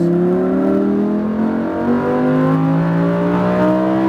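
A Lamborghini Huracan pulls hard on a race track, its engine note climbing steadily in a loud, sustained roar that continues throughout without a break.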